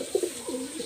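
A master pair of red-eyed Blue-tailed pigeons coos close by, a brief low throaty call of a couple of soft pulses with no talk.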